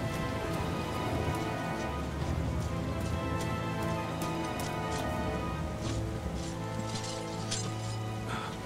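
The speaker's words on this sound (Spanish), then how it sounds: "La lluvia pronto pasará." Steady heavy rain falls continuously on an outdoor surface, with scattered louder drops and splashes throughout; no voices over it.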